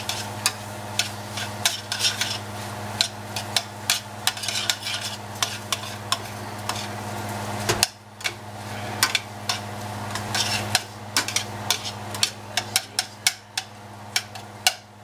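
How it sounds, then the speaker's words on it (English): Beef and vegetables being stirred in a cooking pot for beef shanks in burgundy, with repeated sharp spoon scrapes and clinks against the pot over a steady low sizzle, up close and without talk. "Stir that around and get it all mixed up"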